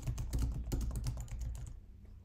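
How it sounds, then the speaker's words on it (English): Quick typing on an Apple computer keyboard: a rapid, close series of soft key clicks for about two seconds, stopping near the end, with no talking. "I'm going to just type on the keyboard here real quick."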